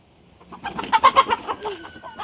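A flock of chickens chased by a dog at a neighbouring house lets out a brief, near burst of agitated clucking and squawks lasting about a second, with no voices.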